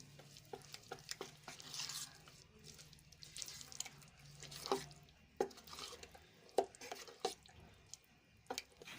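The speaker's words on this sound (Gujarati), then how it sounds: "હવે બધું સરસ રીતે મિક્સ કરી લેશું" A spoon stirs dhokla batter with salt, turmeric and coriander-cumin powder, giving soft, faint scraping and light clicks and taps at an irregular pace in a quiet kitchen with no talk.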